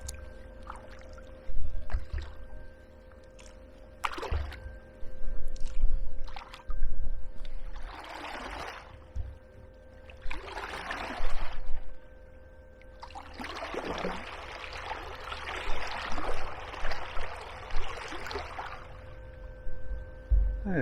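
Canoe paddle strokes splash and swish in repeated bursts while paddling downstream on the River Medway between East Farleigh and Allington Lock, close by with quieter gaps and gentle water trickling between strokes.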